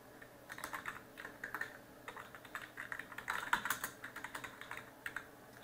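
Quiet, steady typing on a computer keyboard during work in CorelDRAW, with bursts of key presses and short pauses and no voices.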